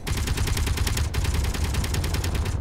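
Rapid, continuous automatic gunfire from a gun in Space Engineers, a loud, steady stream of closely spaced shots with barely a pause throughout.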